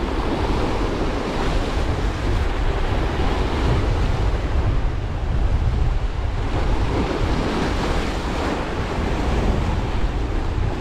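Strong wind buffets the microphone while sea waves crash and surge continuously on the French coast, a dense, loud roar with no pauses and no voices.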